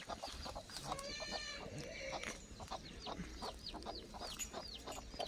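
Free-range village hens cluck in quick repeated calls on a grandmother's farm, with a chick nearby, the clucks fairly close and spaced across a quiet outdoor background.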